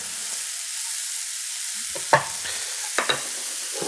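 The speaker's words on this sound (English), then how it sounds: "This is going to cook way, way down. Give that a quick little stir." Mushrooms cook in a pan under a soft steady sizzle, broken by a few quick scraping stirs and utensil knocks in the second half, close up with no talk.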